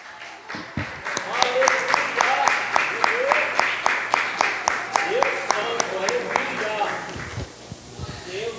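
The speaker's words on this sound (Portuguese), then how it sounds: "Palmas para o Salvador." Steady rhythmic clapping from a church congregation, keeping a regular beat under loud worship singing, fading out near the end.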